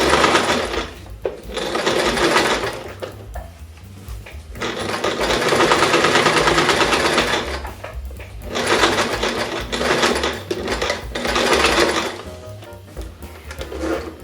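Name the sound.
sewing machine stitching a zipper onto fabric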